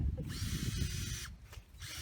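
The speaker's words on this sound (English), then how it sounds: "we'll get busy here and drill our holes" A power drill whines loudly for about a second while drilling holes in ice, pauses briefly, then starts up again, with low rumbling underneath.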